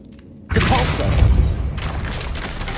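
In Hogwarts Legacy, the Depulso spell lands with a sudden heavy boom and thud that knocks down a hanging object, followed by a lingering rumbling crash and debris noise.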